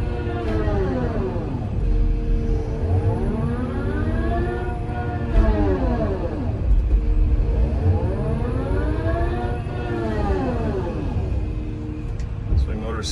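Hydraulic swing motors on a 2018 Caterpillar 336FL excavator whine in two long rising-and-falling sweeps over a steady, loud diesel engine rumble, with a faint hiss above.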